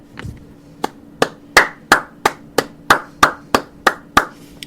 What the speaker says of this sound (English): And that is a sincere clap.